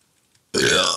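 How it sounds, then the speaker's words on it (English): One loud, close burp lasts about half a second, starting abruptly after near-silence, during a Minecraft server session. "I'm just burping up a storm."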